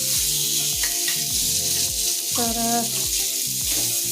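Paneer fries in a little oil with a loud, close, continuous sizzle, with a few stirring scrapes on top and a brief word spoken.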